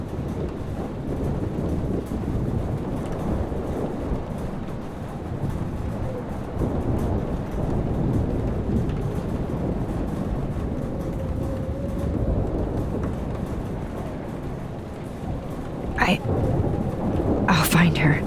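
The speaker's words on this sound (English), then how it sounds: "Not in this storm, you won't." Steady rain and storm rumble from a thunderstorm in Life is Strange, a constant dense wash with a few sharp bursts near the end and faint voices underneath.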